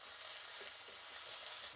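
Curry leaves crackle and sizzle in hot oil with spluttered mustard seeds, cumin and urad dal for a chutney tempering, a steady, fairly quiet broadband hiss with faint stirring.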